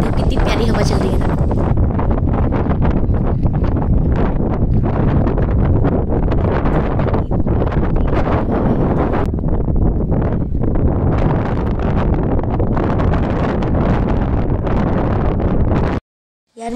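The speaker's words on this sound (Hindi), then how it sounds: "तो कितनी प्यारी हवा चल रही है ना" Strong wind at the Mahabaleshwar hill station buffets the microphone in a loud, continuous roar with rustling gusts, cutting off abruptly near the end.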